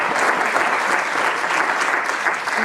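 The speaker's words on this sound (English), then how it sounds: "Another round of applause for that." Steady, dense applause from a cinema audience during a live Q&A screening event, filling the whole stretch at an even, sustained level with no talk over it.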